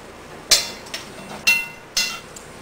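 Ribs go back into a porcelain-coated cast iron pan on the heat, making three or four sharp metallic clanks spaced about half a second apart, close and distinct with nothing else over them.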